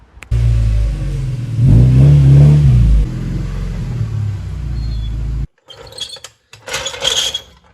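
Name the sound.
Mazda Miata car driving into the garage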